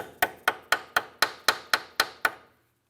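Nine quick metallic taps in a steady rhythm as a 3/8 stubby wrench is knocked onto an outer tie rod on a 2005-2007 Ford 500, each strike ringing briefly, then silence.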